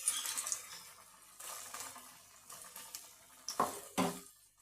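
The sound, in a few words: onion pakora in gram flour batter frying in oil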